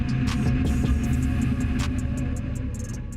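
Tracked ATV with a five-range gearbox and CVT accelerating on ice, a loud steady engine drone and mechanical hum with faint clicks and rattles, close up and without talk.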